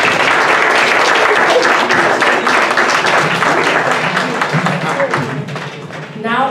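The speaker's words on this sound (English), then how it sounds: "Please give another round of applause for Mr." Crowd applause at a Black History Month kickoff celebration, loud dense clapping that holds steady and then tapers off near the end while voices rise underneath.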